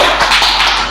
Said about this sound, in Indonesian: berikan tepuk tangan untuk Niken